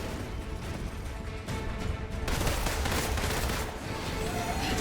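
Rapid gunfire from a shooter in the Marvel's Avengers video game, featuring Black Widow, forms a dense, continuous crackle of shots and impacts that grows louder midway and holds steady throughout.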